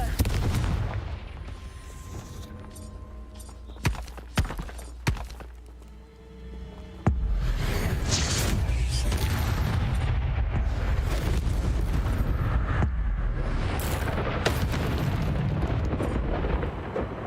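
Blasting-curse explosions go off in Hogwarts Legacy, heavy booms and thumps bursting amid chaotic combat noise, several sharp impacts in quick succession with a rumbling spell-fight background.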